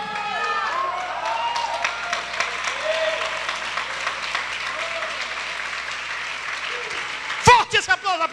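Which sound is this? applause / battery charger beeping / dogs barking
applause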